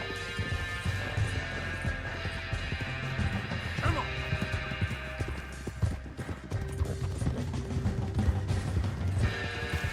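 A tired horse in a video game trots along with steady clip-clopping hooves, mixed with game sounds and a brief crash, while someone speaks briefly.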